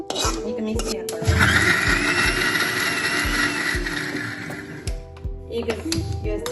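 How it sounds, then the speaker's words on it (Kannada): A kitchen mixer grinder whirs loudly for a few seconds as it grinds toasted spices for chicken soup, framed by short knocks and clatter before and after. "ಈಗ ಮಿಕ್ಸಿ ಹಾಕೊಳ್ಳೋಣ."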